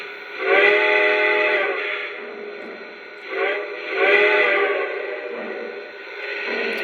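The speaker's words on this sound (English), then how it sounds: "And of course that great Reading T1 whistle." A Lionel Legacy Conrail T1 model train sounds its Reading T1 steam whistle, a chime-like tone blown in several long and short blasts with a faint hiss underneath, heard close and alone.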